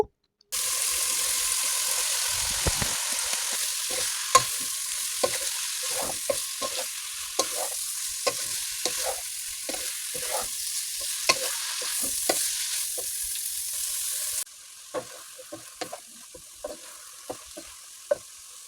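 Mixed vegetables with potatoes stirred and frying in a pan with cooked-down spices, a steady loud sizzle broken by frequent scraping stir strokes, the sizzle dropping somewhat near the end, no talking.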